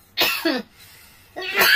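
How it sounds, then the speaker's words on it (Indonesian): Two harsh, close coughs from one person, separated by a short quiet pause, loud and sharp with no talking around them. "Aduh, batuk."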